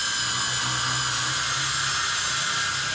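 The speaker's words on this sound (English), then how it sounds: "I'm going to take the grinder and just put like a knife edge on it so it tapers down." An angle grinder tapers the edge of a car fender to a knife edge for splicing, a loud, continuous high-pitched whine held steady at close range with no talking.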